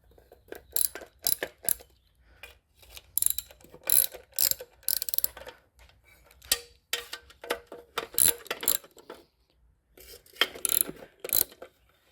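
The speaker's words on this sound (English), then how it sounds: "But let's pull the valve covers and see what kind of surprises we got in there." A hand ratchet works loose the valve cover bolts on a Pontiac 350 V8 engine during a teardown, giving clustered bursts of close, crisp pawl clicking with brief gaps between bolts.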